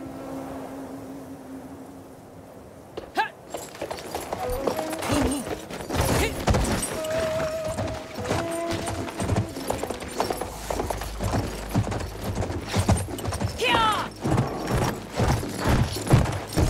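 Horses gallop during a Battlefield 1 mission with Bedouin riders, a fast drumming of hooves among scattered gunfire, mechanical clatter and battle noise. The sound grows louder and denser after a quiet start.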